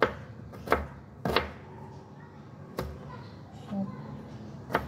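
Knife chopping onion on a board in a home kitchen, a few sharp separate strikes spaced irregularly, close and moderately loud over low background noise.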